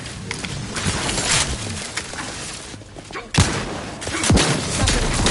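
Gunfire in The Outer Worlds 2 crackles in scattered bursts with a few heavy thumps, mixed with voiced combat chatter and game effects throughout.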